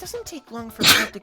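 A single sharp, loud sneeze bursts out close by in the middle of a stretch of speech, with talking before and after it.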